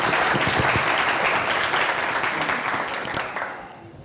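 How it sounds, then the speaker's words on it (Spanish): An audience at an art and design talk breaks into sustained applause, a loud, even wash of clapping hands that tapers off toward the end. "Un aplauso, por favor."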